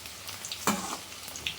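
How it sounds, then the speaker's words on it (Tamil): Cauliflower pieces fry in hot oil, a soft continuous sizzle with a short scrape or stir and a few light crackles, fairly quiet and with no one talking. "நல்லா பொரியட்டும்"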